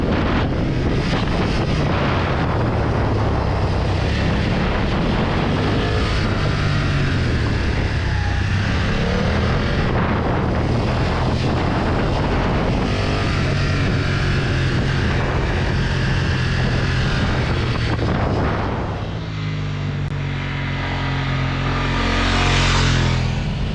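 A 2020 BMW F900R motorcycle rides on an open road, its engine drone buried under heavy, constant wind rush over the microphone, loud and unbroken throughout.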